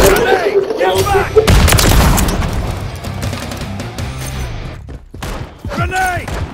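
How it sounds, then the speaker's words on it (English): Grenade blast and rattling gunfire from a Call of Duty battle, with a heavy boom near the start followed by sustained volleys of shots and rumbling explosions, loud and close, with shouted game voice callouts mixed in. "Grenade. Get back."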